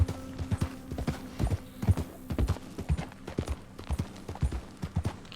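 Horse hooves clip-clop steadily at a walking pace in Red Dead Redemption 2, a close, even rhythm of soft thuds with a faint low hum underneath.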